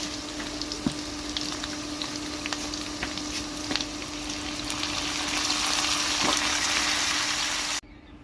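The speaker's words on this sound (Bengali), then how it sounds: "লাল লাল করে ভাজা হয়ে গেছে এখন আমি বেগুন দিয়ে দেবো" Steady oily sizzling and crackling of eggplant frying in a pan, continuous and fairly close, growing slightly louder before cutting off near the end.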